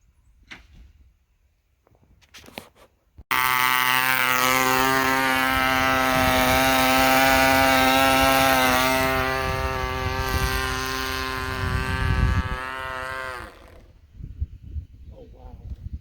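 Large nitro-powered model airplane engine with no radio aboard, a loud sustained buzzing drone that starts abruptly, holds steady for about ten seconds with a slight pitch dip, then cuts off, leaving faint outdoor noise.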